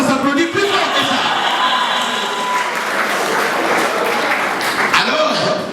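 Audience at a Women's Day show in Geneva claps loudly and steadily throughout, a dense wash of applause with cheers and shouts mixed in.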